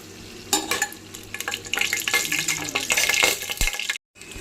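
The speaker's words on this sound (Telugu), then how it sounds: "వేగిపోయినాయి మసాలా దినుసులు." Whole spices sizzle and crackle in hot oil in a pan for Andhra Natu Kodi biryani, with stirring scrapes and a loud, busy frying hiss that cuts off abruptly near the end.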